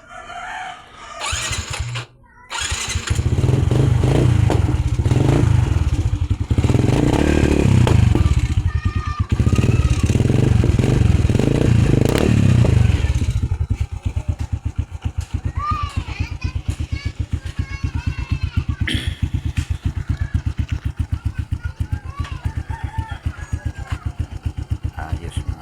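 Small Filipino motorcycle or scooter engine revving loudly up close, rising into strong bursts of throttle before settling into a steady, rough idle chatter with faint background sounds.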